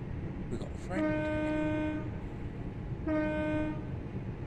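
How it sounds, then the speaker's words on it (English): A freight train on the Birmingham Cross City Line in Train Sim World 3 sounds its horn in two long, steady multi-tone blasts separated by a short pause, over a low rumbling rail background. "Oh, it's a freight train."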